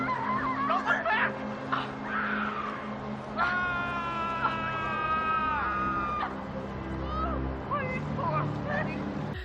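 In a Nintendo Switch video game, people on a raft scream at a shark. High, sustained screams rise in the middle among other clattering game sounds and snickering noises.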